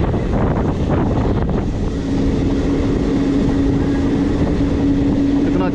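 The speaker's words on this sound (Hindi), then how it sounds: "शाम को चली है train due to farmer strike के कारण" A train running through Punjab in the evening gives a loud, continuous rumble of wheels and carriages, with heavy wind buffeting and a steady humming tone that emerges partway through.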